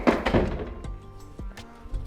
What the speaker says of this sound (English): Soft close cabinets, let's check it